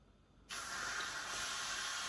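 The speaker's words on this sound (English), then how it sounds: "when this timer goes off and I open that steam valve, the steam is going to travel right through the cloth" Steam bursts from the release valve of an Instant Pot cooking beef bourguignon, starting abruptly and continuing as a loud, steady hiss through a cloth, with no talking.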